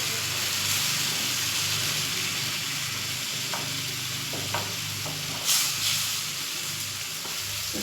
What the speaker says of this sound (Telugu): కొంచెం బొంబాయి చట్నీ వేసేసి అంతా స్ప్రెడ్ చేసేయాలి దోశ